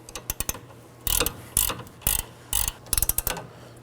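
Ratcheting 18mm wrench snugging the sway bar link nut on a 2018-2024 Chevrolet Equinox: quick clicking bursts at the start and end, with several longer rasping ratchet strokes between, close and clear with no talk.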